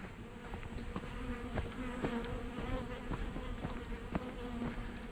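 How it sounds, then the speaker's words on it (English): Dense insect buzzing from many wasps swarming close around sand dunes near their ground nests, a steady droning hum with overlapping wingbeats and no voices. "A lot of wasps here."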